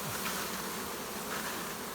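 A swarm of honeybees on a rainy day gives a steady, dense buzzing drone close by for the whole stretch, with no talking.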